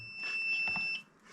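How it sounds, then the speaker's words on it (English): A multimeter's continuity beeper sounds once when its test leads are shorted together, a steady high electronic tone lasting under a second, close and clear against a quiet room. "When I short those out, it'll give me a beep"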